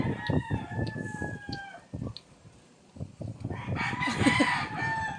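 Chickens cluck in a run of short, close, repeated calls, followed by a louder drawn-out rooster crow toward the end. A farmyard murmur sits underneath.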